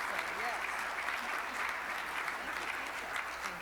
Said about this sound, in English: So let's give them a round of applause again.